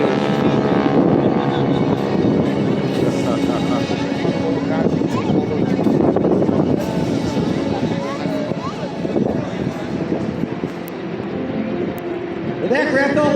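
Sky Typers propeller planes roar past low over Jones Beach during an air show, a loud, sustained drone that swells and fades, with people talking throughout.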